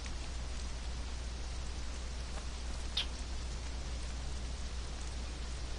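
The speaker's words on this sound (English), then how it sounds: "It is raining." Rain falls steadily in the Conan Exiles video game, a soft even hiss of drops that holds constant throughout, faint and alone.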